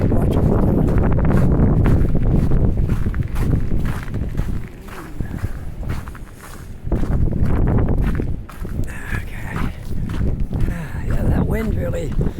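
Strong gusty wind buffeting outdoors in Halifax's North End on a cold winter day, loud and roaring throughout with footsteps and brief speech mixed in.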